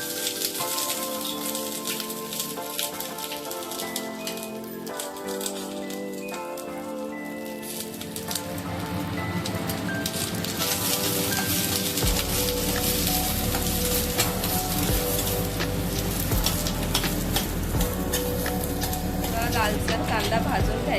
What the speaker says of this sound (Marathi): त्यासाठी 2 मीडियम साईजचे कांदे थोडंसं तेल टाकून फ्राय करून घेऊ।